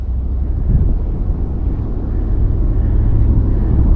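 Strong northeast monsoon wind at sea buffets the microphone in a constant low, heavy roar with no pause, loud and close throughout.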